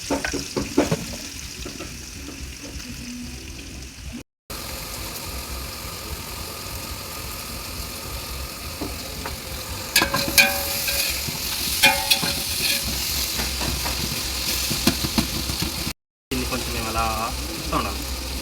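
Ten sliced onions frying in oil in a pot for biryani, a steady close sizzle with stirring scrapes and clatter, the frying continuing under and between brief stretches of talk.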